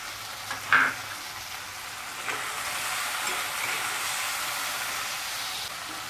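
Chopped carrot and red bell pepper sautéing in a pan for pasta, a steady close sizzle with a brief clatter near the start and no talking.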